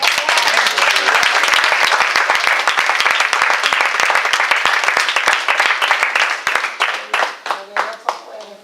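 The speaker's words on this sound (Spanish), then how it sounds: "¿Puedes darle un aplauso al Padre y al Espíritu Santo?" A church congregation breaks into applause during a service, many hands clapping loudly and continuously before thinning out into a few scattered claps at the end.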